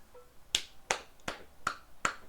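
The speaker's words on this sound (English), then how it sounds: "Golf clap." Five slow, sparse, evenly spaced claps make a deliberate golf clap, sharp and close in an otherwise quiet room.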